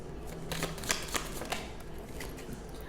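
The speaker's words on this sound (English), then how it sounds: "I don't know how to shuffle these." Quick rustling flutters of cards being shuffled, a few crisp riffling bursts close by, then quieter light handling.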